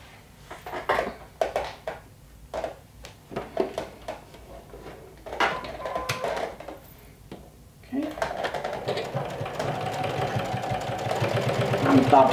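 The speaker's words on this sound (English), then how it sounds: "Now we can top stitch this part." A sewing machine top-stitches a hood seam on a lumberjack jacket, first in short stop-start bursts under talk, then in a steady, loud run of rapid needle strokes building toward the end.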